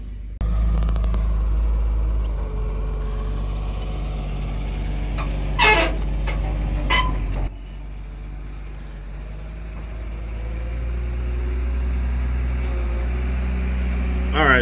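A 5-ton four-wheel-drive wrecker truck's diesel engine drones steadily while it pushes a car, a loud low idle-to-rev rumble with a brief burst of higher clatter midway before settling back.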